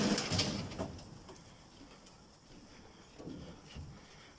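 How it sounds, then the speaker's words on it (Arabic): Breeding pigeons in a loft coo in soft, low, intermittent murmurs, a brief burst near the start and another toward the end, alongside faint rustling and light knocks. "هذا حمام التفريخ."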